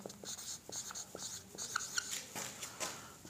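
Chalk or marker strokes on a board as a physics definition of relative motion is written out, a steady series of short scratchy strokes, fairly close and quiet, with no talking.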